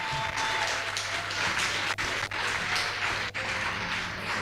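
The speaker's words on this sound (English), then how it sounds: "let's give her another round of applause, Janine." An audience at a Peter Tosh symposium applauds in a dense, steady wash of clapping that runs for several seconds at a moderate level.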